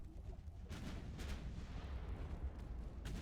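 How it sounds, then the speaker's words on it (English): Torpedo strike explosion on a warship in the naval game Ultimate Admiral: Dreadnoughts, a faint, rumbling blast with low booms and scattered crackling impacts over a steady roar, no talk. "Well, that torpedo did a number."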